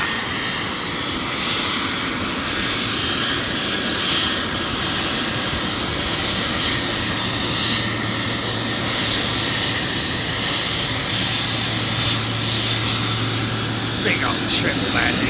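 Large aircraft engines roar as a big three-engine plane passes, a loud, broad, sustained drone with a faint low hum underneath and brief voices over it.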